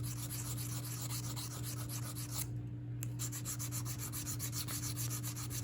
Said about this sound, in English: I'm going to use the medium stone on this